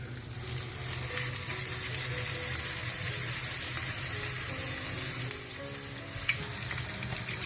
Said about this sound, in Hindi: इस तरह से फिर इसको तल लें आप।